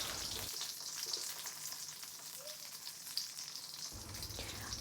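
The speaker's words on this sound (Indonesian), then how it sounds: "Nah, ini terongnya aku goreng dulu." Eggplant frying in a small amount of oil, a quiet, steady hiss and crackle of sizzling with faint scattered pops, close but soft.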